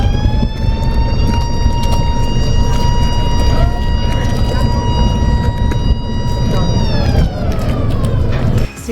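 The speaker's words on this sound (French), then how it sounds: "C'est la sirène qui signifie que le pont va s'ouvrir." Siren at the Lefkas canal floating bridge, the signal that the span is about to swing open, sounds as a loud steady multi-tone wail that holds for about seven seconds and then slides downward, over idling engine rumble.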